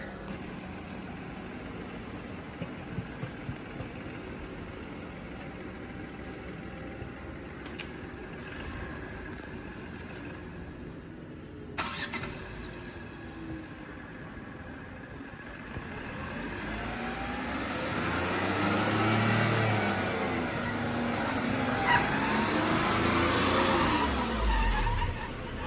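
A Tata car's engine hums and idles steadily through a long stretch, then swells into a louder, deeper rumble as the car is driven inside, with faint clicks and background noise around it.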